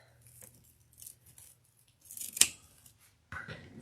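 Scissors snip through material while a dragon wreath wing is trimmed, giving several small close cuts and one sharper snap near the middle.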